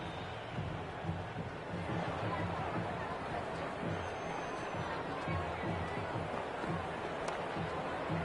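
Stadium crowd at a Pakistan vs India one-day international cricket match in Ahmedabad, a steady roar of cheering after a six, with a commentator's voice over the noise throughout.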